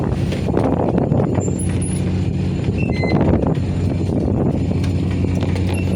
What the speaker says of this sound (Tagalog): malakas pa rin yung alon at saka yung hangin